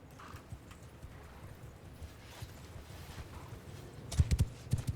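Horse hooves in the video game Mount & Blade II Bannerlord give a soft, steady clip-clop that swells into a few louder, heavier thuds near the end. No talk is heard.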